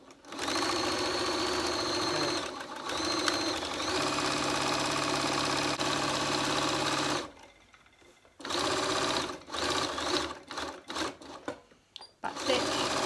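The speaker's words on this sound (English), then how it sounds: "I'll sew this using that so you can just see how it works." A domestic sewing machine stitches a cloth face mask, running loud and steady with rapid mechanical rattling, then a pause and shorter bursts of back stitching.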